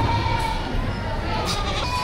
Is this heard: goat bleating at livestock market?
yes